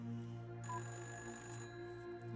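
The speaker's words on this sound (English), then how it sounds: "Why's the phone always ringing in this room?" A telephone rings in the video game Fran Bow, a steady electronic bell tone with bright sustained pitches that persist throughout, fairly clear with no speech over it.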